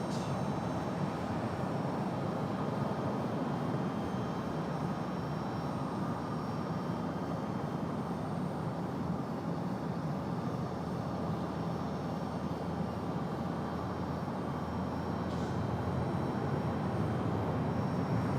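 An American Airlines Boeing 737 jet airliner at Raleigh-Durham International Airport gives off a steady, distant roar that holds evenly for the whole stretch, with no talking.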